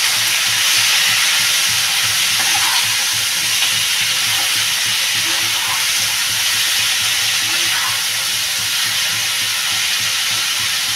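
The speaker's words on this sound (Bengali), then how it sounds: "এবার আমি এটা আলু আর ডাটাটা ভালো করে একটু কষাবো।" Potatoes and drumstick stems sauté in a pan with salt and turmeric, giving a steady, dense sizzle and hiss throughout with faint stirring scrapes under it and no talking.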